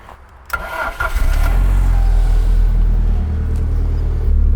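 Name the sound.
Alfa Romeo car engine starting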